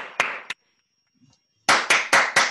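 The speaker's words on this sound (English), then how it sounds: "a big round of applause" A few separate hand claps after a big round of applause is called for at an online Python conference, two quick claps, a short silence, then four louder evenly spaced claps close to the microphone.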